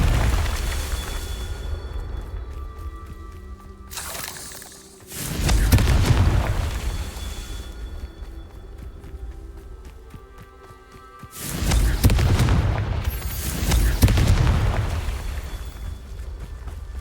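Confringo blasting spell explosions in Hogwarts Legacy: two loud booming blasts several seconds apart, each with a rumbling tail over continuous game ambience, with a softer whoosh before the first.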